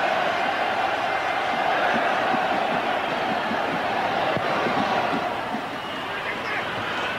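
Dense, steady roar of a large football crowd in a stadium cheering the Welsh team at a 1994 World Cup qualifier against Romania, continuous throughout with commentary talk over it.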